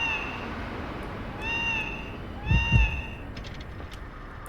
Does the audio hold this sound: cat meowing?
yes